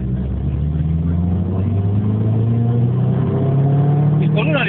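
Two Rover hatchbacks, a 216 GTI and a 220 GSI, race side by side, their engines droning and climbing in pitch as they accelerate, heard from inside a car under excited talk.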